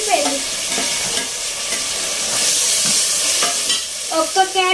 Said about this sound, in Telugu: ఇప్పుడు టమాటాలు వేస్తున్నాను.